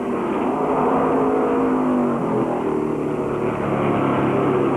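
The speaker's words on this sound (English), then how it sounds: "Darrell Derringer, driving a Mercury, moves up to challenge Patch's second place Ford" 1965 stock cars, including a Mercury and a Ford, racing in the Southern 500 at Darlington Raceway: a loud, continuous engine roar, steady throughout with a slight shift in pitch midway, no voices.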